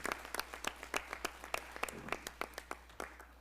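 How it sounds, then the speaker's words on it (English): At a school board of education meeting, an audience claps for the PTA, thin scattered claps heard from a distance over a low hum. "So a round of applause for the PTA,"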